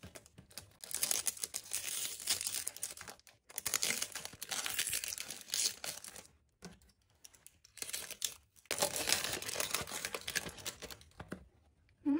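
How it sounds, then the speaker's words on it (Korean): A photo card frame package is torn open by hand, its plastic crinkling and ripping close by in three or four bursts separated by short pauses. "그럼 이제 다음 메시지 포토카드 프레임을 뜯어볼게요"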